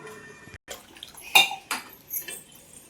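Cast iron pan being washed: a dry clatter and knocks of metal against dishes, with scattered scrubbing and rinsing bursts at close range.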